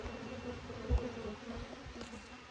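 Honey bees hum steadily during a spring hive inspection, a soft, even drone close by with a brief low knock partway through and no voices.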